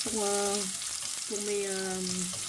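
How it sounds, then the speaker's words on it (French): Onion and garlic fry in olive oil with a steady, loud, close sizzle throughout, while a voice speaks over it in two short phrases. "quand on fait sauter un plat, c'est d'abord oignon et ail dans l'huile d'olive"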